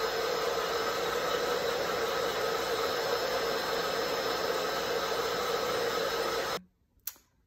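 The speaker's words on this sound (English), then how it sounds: "Now blow dry it." A hair dryer runs loud and steady, a continuous close whoosh for several seconds, then cuts off abruptly, leaving near silence and one small click.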